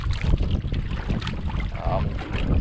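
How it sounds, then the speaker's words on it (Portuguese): Strong wind buffets the microphone outdoors on a fishing boat at a peacock bass lodge in Anaurilândia, a continuous loud rumbling roar with gusting rises and falls and no speech. "muito vento"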